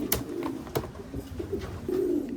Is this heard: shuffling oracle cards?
no